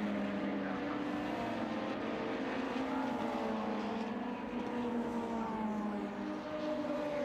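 Lotus Cup race cars climb toward Druids at Brands Hatch, their engines a faint, distant drone that rises and falls as they pass.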